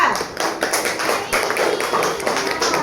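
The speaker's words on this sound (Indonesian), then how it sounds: "tepuk tangan buat kelompok kedua" Students applaud the second group in a classroom, a dense run of handclaps and taps filling the whole stretch at steady loudness with no one speaking.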